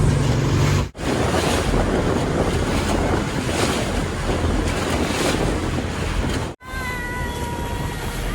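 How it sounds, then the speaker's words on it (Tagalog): Rough sea waves slapping a small boat during island hopping off Guimaras and Gigantes, Iloilo, with a loud continuous roar of water and wind buffeting the microphone, broken by two brief cutouts. "Maalon."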